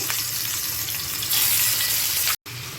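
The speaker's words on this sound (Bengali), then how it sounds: "এই তেলে এখন আমি দিয়ে দিব ইলিশ মাছগুলো" Pieces of hilsa fish fry in hot mustard oil with a loud, steady close-up sizzle that swells midway and cuts out briefly near the end.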